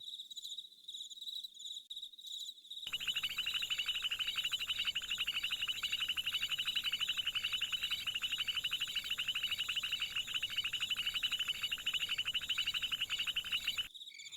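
Amazon rainforest night chorus with a dense, rapid insect-like trilling and calls attributed to poison dart frogs, continuous and loud from the third second onward, ending abruptly near the close.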